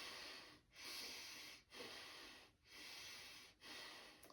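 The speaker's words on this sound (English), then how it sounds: "You might just start hearing your breathing as so." Slow, audible breathing up close: four or five airy inhale-exhale cycles with a breathy, slightly snoring texture and short pauses between them.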